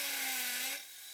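A power drill bores an anchor hole, running at a steady high whine before the pitch drops and the motor eases off, then picks up again briefly at the end; close and alone.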